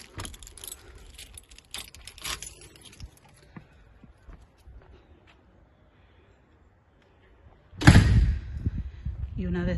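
Keys from a mailbox jangle and clink in the hand at a hotel entrance door in Galicia, light metallic rattles spread over the first few seconds, then a hush before a loud burst of handling noise as the door opens.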